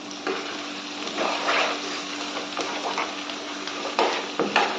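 Prawn curry with chili powder and ginger paste is stirred in a pan, giving a continuous close sizzle with irregular scraping and knocking strokes of the spoon against the pan, and no talking.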